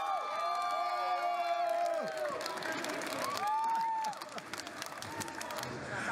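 A Chinese audience cheers and claps for a performer, a lively crowd noise with whoops and high shouts, and the clapping grows louder and busier toward the end.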